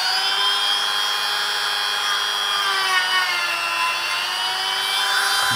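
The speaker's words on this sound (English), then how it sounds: "Use Dremel or some tools to remove." A Dremel rotary tool cuts into a small drone's battery casing, giving a steady, high-pitched whine that holds close and loud throughout.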